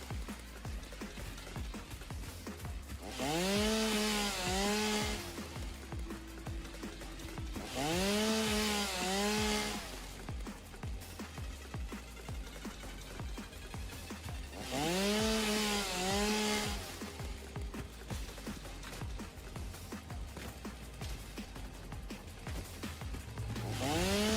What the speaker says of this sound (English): Let's mow some of the trees down.